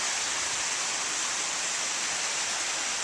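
Steady rush of a creek flowing right beside a shaded landing among trees, an unbroken hiss of moving water heard up close.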